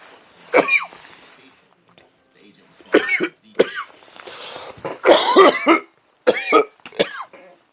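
Several harsh coughs in separate bursts with pauses between them, close and loud, with a few brief voiced sounds mixed in.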